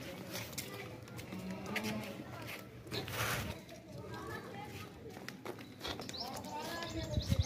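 A goat walking ahead of her kid on a goat farm, with faint bleats and footsteps under someone talking throughout, plus outdoor bustle around them.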